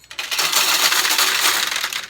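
Pachinko balls drop into the tray of a Nishijin Sophia Diana machine. A dense, loud metallic clatter of many small steel balls pours down for about two seconds and then stops.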